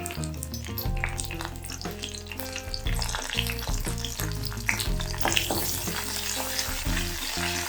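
Curry leaves and asafoetida frying in hot oil while making banana flower kootu, a continuous crackling sizzle with sharp pops and a few clinks of stirring, close and steady, no voices.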